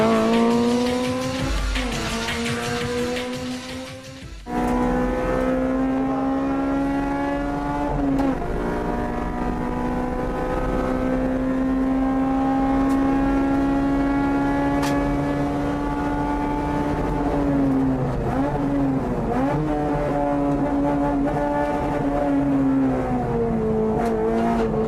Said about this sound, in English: Legend is a Group N Racing Integra R built by Spoon Sports.